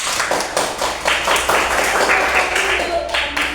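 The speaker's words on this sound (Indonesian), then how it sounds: "berikan tepuk tangan untuk kelompok 3" A classroom applauds a student group, about four seconds of dense, steady clapping filling the room, with a few voices mixed in.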